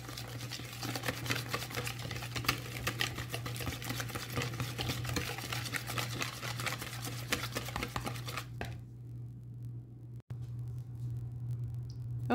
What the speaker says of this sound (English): you'll whisk everything together